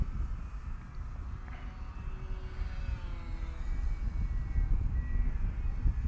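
A small radio-controlled fixed-wing plane flies on a windy day, its thin buzzing motor tone drifting in pitch under a low rumble of wind noise against the microphone.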